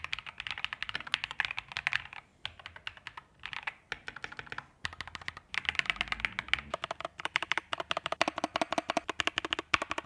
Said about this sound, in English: I went with the Keychron Jupiter banana switches, and they sound lovely